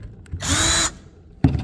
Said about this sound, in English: So now my plan is to drill a hole here deep.